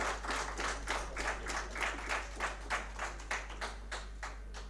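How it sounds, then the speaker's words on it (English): A faint, soft round of clapping greets panel guests at a sports literature festival, with a rhythmic, slightly distant patter over a low steady hum. "A huge round of applause for the gentlemen here"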